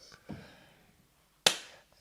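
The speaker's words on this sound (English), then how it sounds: "You do the clap." A single sharp hand clap rings out close and loud after a softer thud and faint rustling, then fades quickly into quiet.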